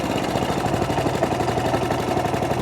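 An Atco Balmoral cylinder lawn mower, warmed up, idles steadily nearby with an even, rapid mechanical chug and no surging or hunting, running alone without talk.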